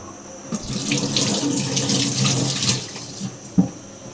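Running tap water splashes steadily into a kitchen sink as vegetables and utensils are rinsed for cooking, with a few sharper clatters and splashes breaking the continuous flow.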